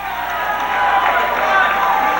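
Home crowd at a 2000-01 Oxford vs Pontotoc boys' high school basketball tournament game roars as a basket is counted, a loud sustained gym din of cheering voices filling the whole moment.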